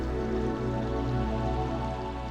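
Steady, dense monsoon rain hiss in northeast India with a low rumble beneath, continuous and fairly loud throughout, no voices.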